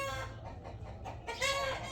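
A hen clucks softly and repeatedly at close range, with a louder, rising cluck near the end.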